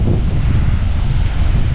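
Big sea waves churn under heavy wind as typhoon Karding arrives, a loud, dense rumble with buffeting gusts battering the microphone throughout.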